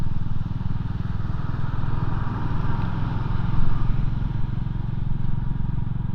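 A Royal Enfield 350 motorcycle's exhaust burbles steadily nearby in a loud, continuous low thump, with a slight swell partway through and no talking over it.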